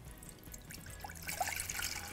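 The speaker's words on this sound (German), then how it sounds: "Dann tun wir da jetzt das Wasser rein." Water trickles and splashes into a pot, faint at first and then a louder pour with small droplet sounds.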